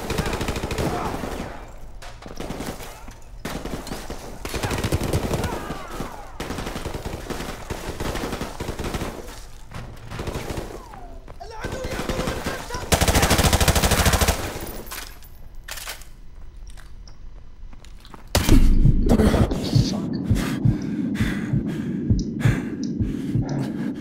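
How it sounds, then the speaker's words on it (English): Sustained automatic gunfire from an enemy lying prone on the ground in Call of Duty: Modern Warfare Remastered, loud dense bursts with brief gaps, ending in a heavier louder volley. "Guy laying on the ground shooting me?"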